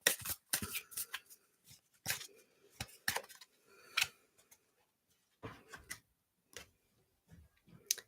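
Tarot cards shuffled by hand during a card reading, a close, crisp series of irregular riffling snaps and soft slides separated by short pauses, with no talking.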